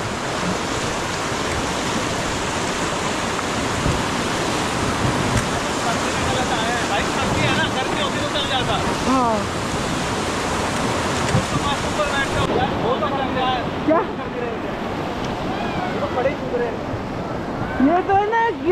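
Loud rushing river water roars continuously with wind buffeting the microphone, while voices call out over the churning rapids during freezing December river rafting near Kullu-Manali.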